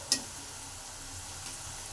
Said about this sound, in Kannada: ಅದಕ್ಕೋಸ್ಕರ ಇನ್ನು ಸ್ವಲ್ಪ ಫ್ರೈ ಮಾಡ್ಕೊಳ್ಳೋಣ